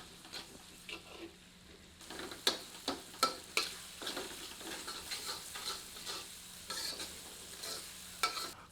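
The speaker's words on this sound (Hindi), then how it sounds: "सबको अच्छी तरह मिलाकर इसे मध्यम आंच पर 2 से 3 मिनट भूनते हैं।" Tomatoes with salt being sautéed in a pan over medium heat for a masala, with a soft sizzle under repeated sharp scraping and stirring clicks of a ladle, close by and without talk.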